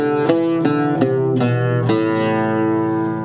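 Close, loud oud plucks trace a brief phrase in Makam Buselik with a one-comma flat, several quick notes settling into a sustained final tone that rings out alone.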